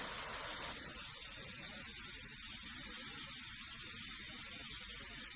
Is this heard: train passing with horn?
no